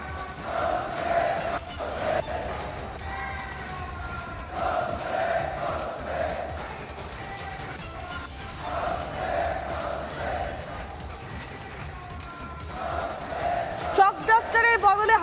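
Teachers who lost their jobs protest in the street outside Bikash Bhavan, their chanting crowd voices rising and falling in repeated rhythmic bursts, with some louder shouts near the end.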